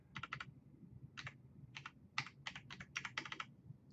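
An IP address is typed on a computer keyboard as a run of quick, quiet, close key clicks in uneven bursts, heard alone.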